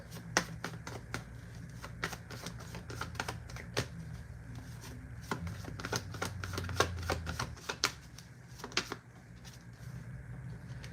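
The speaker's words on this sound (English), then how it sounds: "I feel drawn to pull more of the tarot cards" Tarot cards are shuffled and pulled in quiet surroundings, giving a quick irregular run of light, crisp clicks and flicks over low background hum, close and fairly soft throughout.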